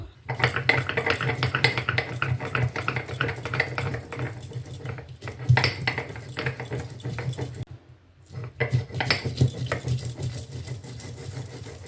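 Mustard seeds, garlic and salt being ground into a paste in a kitchen for an ilish vapa recipe, giving a steady rapid whirring grind with a brief pause near the end.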